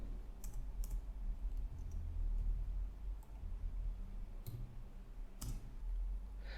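Code being typed on a computer keyboard: sparse, faint, irregular key clicks over a low background hum, a handful of separate taps with no talking.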